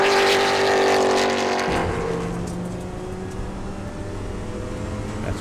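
Onboard Bobby Hodges' number 88 Trans Am car racing at Thunderhill in 2024, the engine roars loudly at high revs, then drops suddenly to a steadier, lower drone.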